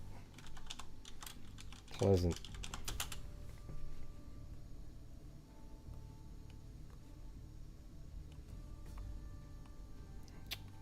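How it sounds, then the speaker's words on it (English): Rapid clacking on a loud computer keyboard, close and irregular in bursts, with a brief spoken word early on and quieter stretches of keystrokes afterward. "I'm gonna get a new keyboard here pretty soon though. This one's too loud."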